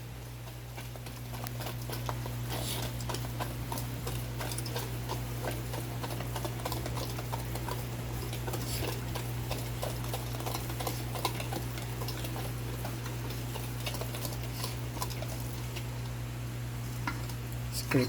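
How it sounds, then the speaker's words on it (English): Whisk stirring wet and dry batter mixture together in a bowl, producing soft, continuous scraping and ticking patter over a steady low hum. "I'm gonna add our wet mixture in our dry mixture. And then I'm going to whisk it again."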